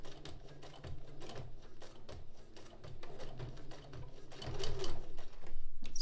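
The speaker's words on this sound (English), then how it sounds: "start sewing right on the edge, as close to the edge as you can get" A sewing machine stitches fusible bias tape right along a fabric edge, a close, steady rapid rattle that slows slightly and then picks up again, with no talking.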